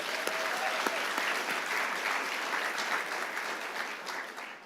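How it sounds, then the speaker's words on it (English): Audience applause at a global social innovation challenge finals event, a steady dense wash of clapping from a crowd that holds for several seconds at moderate level and tapers slightly at the end. "Let's give them a round of applause as well."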